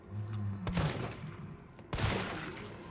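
Two sharp gunshots in Resident Evil 3 (2020), the second landing a critical headshot, spaced more than a second apart over a quiet game ambience.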